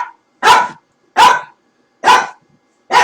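A dog barks four times in steady, evenly spaced bursts, loud and close, with silence between each bark.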